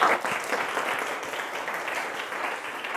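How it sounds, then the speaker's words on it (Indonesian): A classroom of students applauds a classmate, a steady dense wash of clapping from many hands that holds at an even level for the whole stretch, with no talking over it. "kasih aplaus temannya ya"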